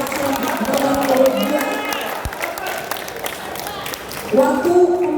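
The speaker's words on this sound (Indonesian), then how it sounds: "Kita berikan tepuk tangan yang paling meriah untuk paslon nomor urut" Applause and cheering from an audience at a regency candidate debate in Lembata, a crowd roar filling most of the clip with a louder swell near the end and some voices mixed in.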